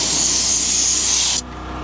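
A tire gets a continuous, close hiss of fine mist from The Rag Company Ultra Air spray applicator, which cuts off abruptly, leaving quiet room tone.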